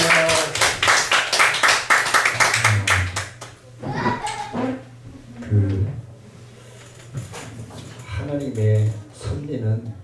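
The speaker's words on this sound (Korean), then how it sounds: "다시 한번 감사의 박수 올립니다" A church congregation gives a round of thanks applause, brisk loud clapping for about three seconds that stops as someone speaks, with scattered taps afterward under his voice.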